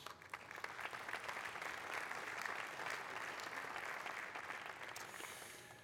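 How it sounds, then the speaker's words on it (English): An awards ceremony audience claps for three IoT solutions candidates, a sustained, fairly soft wash of applause that swells in the middle and tapers off near the end. "So a round of applause for all three candidates, please."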